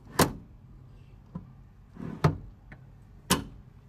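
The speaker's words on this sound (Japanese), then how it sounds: "助手席も前後スライドできます。" A few sharp clicks and clunks of a passenger seat sliding forward and back, spaced irregularly, with soft sliding sounds between them in the quiet cab of a 2024 Suzuki Super Carry.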